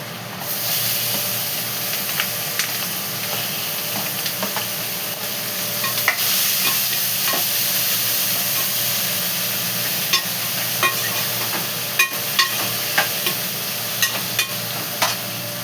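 Onions, garlic and ginger fry in hot oil with a steady, close sizzle, broken by sharp stirring clicks of a spoon against the pan.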